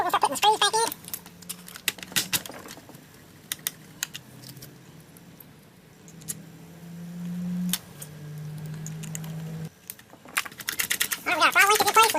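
Small screws are fitted back into a Husqvarna 455 Rancher chainsaw during carburetor repair, giving sparse close clicks and ticks with a low hum and a short whir in between.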